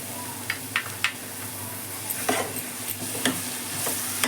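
Fenugreek leaves are stirred into gongura mutton frying in a pan, with a steady low sizzle and several sharp scraping clicks from the spoon, fairly close and quiet, with no talking.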